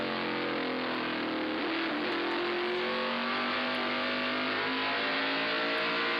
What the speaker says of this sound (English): you can see them battling with the number 6 car being driven this weekend by Ernie Irvin